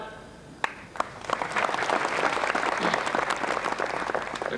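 Audience at a lecture bursting into applause after two sharp claps, the clapping swelling into steady, sustained sound from many hands throughout.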